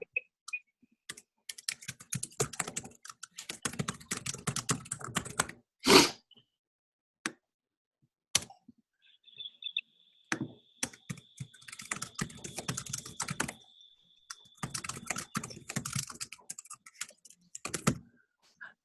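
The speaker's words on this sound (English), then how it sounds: "Sorry, Claudia, we're like feverishly typing and making notes in this Google Doc" Bursts of rapid typing on a computer keyboard, clattering in uneven runs with short pauses, close and fairly quiet, with a faint steady tone in the middle and no voices.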